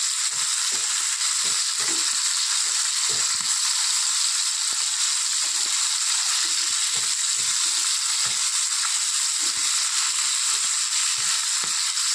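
Pomfret fish sizzles as it fries lightly in a pan, a steady bright hiss of hot oil with scattered crackles and pops throughout, close and unbroken, with no voices.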